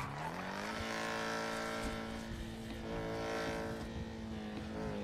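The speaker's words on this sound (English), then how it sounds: "Hold on, there's a car right there." A car in the GTA video game (NoPixel roleplay) drives past with a steady, droning engine hum that rises and holds in pitch, moderately loud, with a faint tire-squeal edge and no speech.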